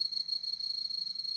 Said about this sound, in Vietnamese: Dế kêu hay là âm thanh thuộc về đêm